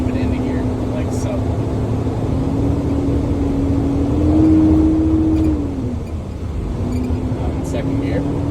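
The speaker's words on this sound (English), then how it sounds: "Let the RPMs drop and then move it into gear, like so." A truck engine with an Eaton Fuller 10-speed transmission drones steadily, then its revs climb, hold and drop away before settling back into a steady hum as the gear changes; a voice may be present.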